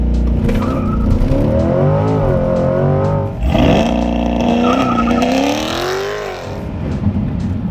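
A C8 Corvette launches hard in sport mode, the engine roaring loud and close as it climbs steeply through the revs, with a brief dip at a gear change before pulling up again, accompanied by some tire noise.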